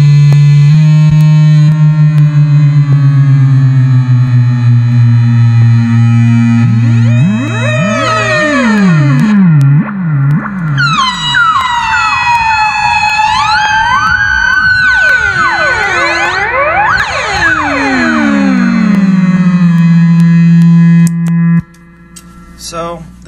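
Homemade Dirty Harry fuzz pedal played through a 1975 silverface Fender Master Volume amp, loud and saturated, with sustained low notes giving way to swooping, pitch-bending squeals and siren-like glides before a held low note fades.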